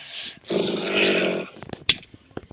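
A dog growls in the Minecraft video game, one sustained low snarl lasting about a second, followed by sparse clicks and short game sounds.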